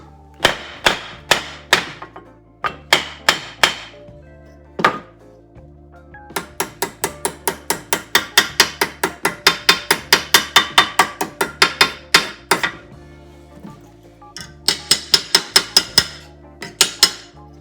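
Sharp metallic hammer strikes ring out in quick bursts and steady runs, a loud rhythmic clanging of car floor pan sheet metal being pounded over a piece of wood.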